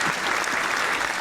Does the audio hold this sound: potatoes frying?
no